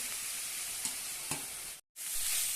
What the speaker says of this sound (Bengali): আবারও বেশ কিছু সময় ধরে একটু নেড়ে চেড়ে নেব।